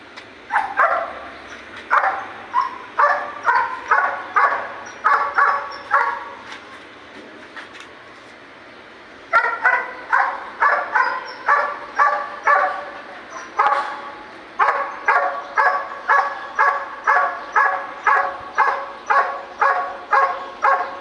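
A dog barks repeatedly in quick rhythmic bursts, loud and close, with a brief pause before the barking resumes in steady volleys.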